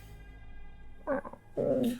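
A cat in the Z-Land video game meows twice against a faint background hum: first a short cry, then a longer, louder one close by.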